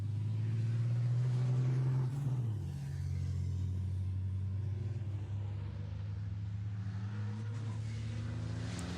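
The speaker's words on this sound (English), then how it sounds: "Look at the way they accelerate out of turns 1 and 2." Five-ton racing trucks accelerate hard out of turns 1 and 2 during 2022 qualifying at Most, a steady deep engine drone that dips in pitch once, then holds a low, moderately distant rumble.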